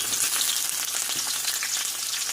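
Garlic frying in a hot pan for adobong talong gives off a continuous, even sizzle, close and steady with no talk over it.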